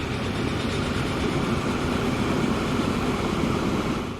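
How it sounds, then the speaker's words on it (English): Steady rumbling rail noise of an oil train running through a city-building tycoon video game, a continuous broadband roll with no clear clicks, holding level for several seconds. "We got an oil train here"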